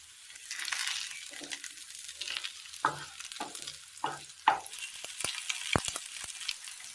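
Oil sizzles and fries in a pan, with soft stirring and a few sharp clinks of a utensil against the pan. It stays close and fairly quiet, with no talking.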